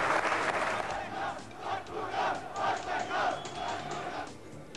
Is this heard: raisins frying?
no